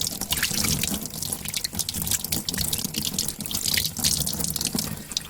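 Tap water runs steadily into a sink as hands are washed with Blue Dawn soap, a loud, close splashing rush with continuous spattering throughout.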